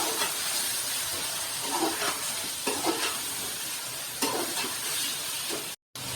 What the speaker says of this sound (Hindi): अब हम इसमें लहसुन और अदरक का पेस्ट शामिल करेंगे और इसे ब्राउन करेंगे